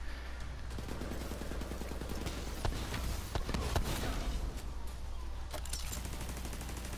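Automated turret in The Division 2 firing during a mission at the JFK Performance Center, a dense continuous stream of rapid gunshots mixed with game sounds over a steady low hum, loud and close, with no speech.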